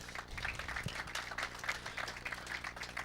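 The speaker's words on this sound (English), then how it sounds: "A big round of applause to all these people." Audience applause at the opening ceremony of a blind football tournament, a steady crowd of many hands clapping from a distance for about three seconds, moderately loud and unbroken.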